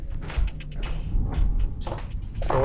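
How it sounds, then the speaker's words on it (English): A door shutting inside a supposedly haunted house: a few soft knocks and a muffled thump over a steady low room rumble, moderately close, with no voices. "Door shut."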